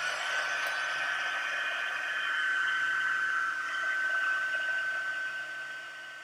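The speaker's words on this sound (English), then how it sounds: "I apologize for the noise with the heat tool." Continuous whooshing hum of a heat tool blowing hot air over embossing powder while making a card, steady and close with a faint high whine, no talking.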